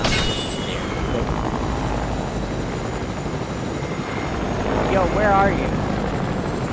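A helicopter in Fortnite whirs steadily with rotor thrum under a player's voice, with a brief chirping game effect near the end.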